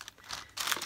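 Thin, still-pliable resin coaster pieces are peeled off greaseproof paper, making short crinkly, papery rustles in two brief bursts, close and quiet with no voices.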